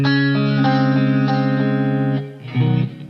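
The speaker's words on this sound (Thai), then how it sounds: "แต่ปกติผมจะไม่ค่อย เล่นรีเวิร์บขนาดนี้นะ" A sustained instrument line drenched in heavy reverb and effects, long washed-out tones ringing continuously with a brief dip before a final swelling phrase, played alone without talk.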